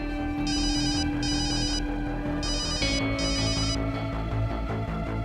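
A telephone bell rings in two double bursts, clear and insistent, over a steady layer of background music.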